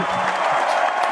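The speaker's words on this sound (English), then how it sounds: "Oh my gosh, the crowd's going wild." A short, loud burst of cheering and clapping from a crowd watching a live comics drawing challenge game, a dense wash of sound that fills the whole moment.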